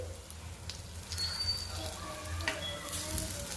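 Mixed dal appe fry in oil in an appe pan, giving a soft, close sizzle with light spattering pops over a low background hum.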